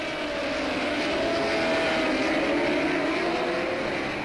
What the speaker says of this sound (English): 24 drivers stamped hard on the throttle